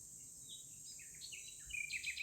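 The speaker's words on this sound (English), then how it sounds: "Dawn approaches and birds sow bright notes along the hedge." Birds sing along a hedge at dawn. Bright, thin chirps and short trills come from some distance, faint over a soft background hiss, and grow a little busier toward the end.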